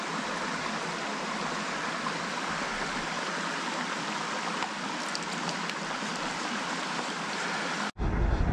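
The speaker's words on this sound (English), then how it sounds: "I may as well take advantage of this little stream here." A small moorland stream in the Yorkshire Dales flows steadily, a continuous close broadband rush of water with an even level throughout, cut off abruptly near the end.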